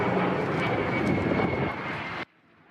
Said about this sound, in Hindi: इस ड्रिल में अमेरिका के कई लड़ाकू विमान एक-एक कर वहां लैंड करते नजर आए।